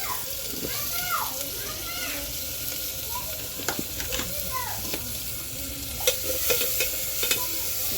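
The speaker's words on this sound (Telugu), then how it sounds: "అలానే ఉల్లిగడ్డలు, కొంచెం ఎర్రగా వేగిన తర్వాత టమాటాలు అయితే వేసుకున్నాం." Onions and tomatoes frying in hot oil in a pan for a tomato curry give a steady, close sizzle, with occasional scraping stirs and sharper utensil clinks in the later seconds.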